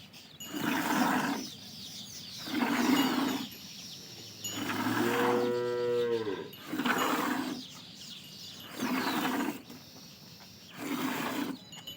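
A two-month-old Pandharpuri buffalo calf gives a series of low, drawn-out calls, close and fairly loud, with short gaps between them and one longer call with a sliding pitch near the middle.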